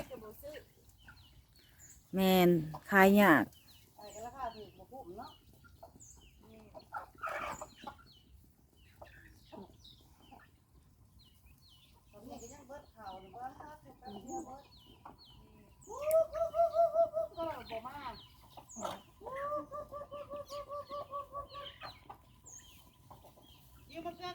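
Chickens on a farm cluck and squawk in scattered bursts, including a loud burst early and longer drawn-out calls later, with a person talking at times.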